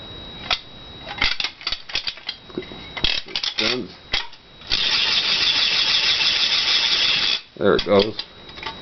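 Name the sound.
vintage wind-up Halloween noisemaker toy rattling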